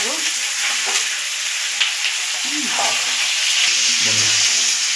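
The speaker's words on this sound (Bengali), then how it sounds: "চিকেনটা আমি একটু ভেজে নেব" Chicken sizzles in hot oil while being stirred for chicken kosha, a continuous close crackle with scraping stirring strokes moving through it.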